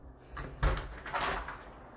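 A house door swings shut with a single muffled thud during a dog manners training session, followed by a brief softer rustle and settling sound, fairly close and with no voices over it.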